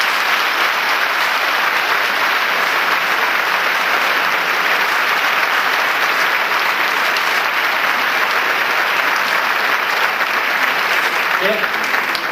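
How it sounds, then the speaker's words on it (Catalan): A large audience at a traditions show in Muro applauds loudly and continuously, a dense, even roar of clapping lasting over twelve seconds with faint voices underneath. "també volem un aplaudiment per a ells"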